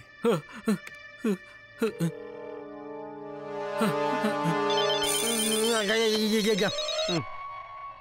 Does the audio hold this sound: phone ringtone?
yes